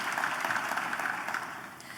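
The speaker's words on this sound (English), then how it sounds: "Let's give her a big round of applause." Audience applause at a national town hall panel, a steady wash of many hands clapping at moderate loudness that tapers slightly toward the end, with no talking over it.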